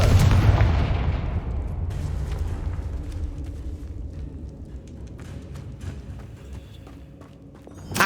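A Confringo fire spell explodes in the PS5 game Hogwarts Legacy inside a tomb, a loud booming blast with a long rumbling decay, followed by scattered rattles and debris clatter, then a fresh burst right at the end.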